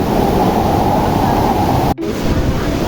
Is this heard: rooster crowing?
no